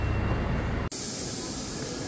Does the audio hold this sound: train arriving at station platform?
yes